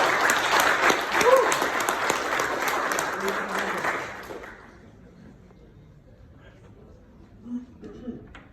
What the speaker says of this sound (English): We have to start with the clap.